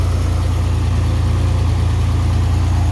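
Early-model Corvair engine idling steadily up close, a constant low rumble with strong vibration and no pauses or talk.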